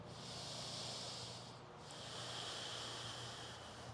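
Deep, steady breathing during a power vinyasa yoga flow, a long airy exhale sound that dips briefly and then resumes, close and continuous with no talking.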